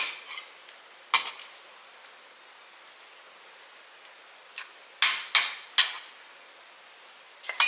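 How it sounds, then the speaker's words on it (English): Metal pan clanking against jars while mango salsa is ladled in, a few sharp metallic knocks and clinks scattered over quiet room tone, with a tight cluster of louder bangs near the end. "a metal pan, so I'm sorry if it clanks"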